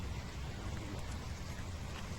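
Rain falls steadily on an open carrot field during harvest, a continuous soft broadband hiss with a low rumble underneath, even and unbroken throughout with no voices.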